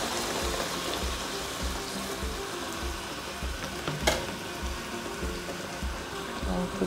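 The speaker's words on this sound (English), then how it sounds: "Adding in the coconut milk." Coconut milk poured into a hot pan of mackerel fish curry sizzles and bubbles steadily, a constant frying hiss with a faint clink partway through.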